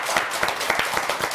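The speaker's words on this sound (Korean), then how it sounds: "자, 그대로 박수!" A studio audience on a Korean morning television show claps together after a magic stretching routine, producing a quick series of sharp, fairly regular hand claps at close range.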